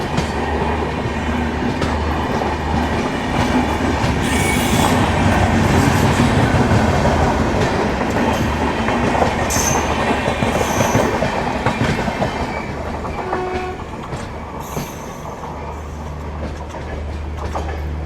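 A train hauled by a freight locomotive rumbles steadily along the tracks with rhythmic clatter and occasional metallic squeals, loud and close throughout, easing slightly near the end.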